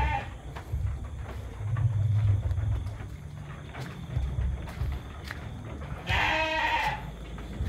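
A Texel sheep in a livestock pen at night gives a single short bleat near the end, heard against a steady low hum and faint background rustling.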